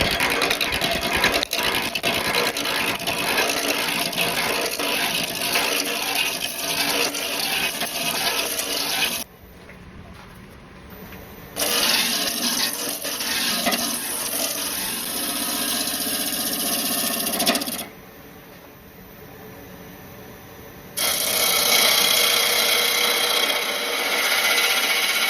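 A wood lathe turns a spalted maple hollow form being rounded and given a tenon. Continuous loud, hissing cutting noise runs throughout, broken by two brief quieter stretches where the tool lifts off.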